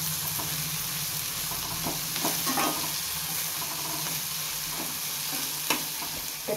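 Onions with green chilies fry in groundnut oil in a steel pan, giving a steady, close sizzle broken by scraping stirs and soft clinks of the spoon against the metal.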